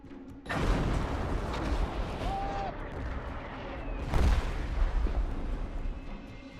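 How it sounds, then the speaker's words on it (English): A World War I artillery barrage: deep, rumbling booms roll in after a quiet start and continue as a sustained low thunder, with a heavier burst about two-thirds through, loud and close with no voices. "Between artillery barrages, the soldiers wait."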